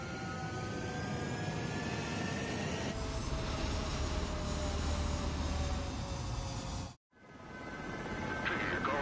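A fighter jet in Ace Combat 7 roars down the runway on takeoff, a loud continuous engine whine and rumble that cuts out for a moment near the end, then swells back.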